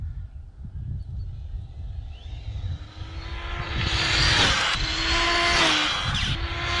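A high-speed RC car makes a speed run outdoors, starting as a faint background whine and then rising into a loud, high-pitched motor scream with rising and falling pitch as it passes, under steady wind noise.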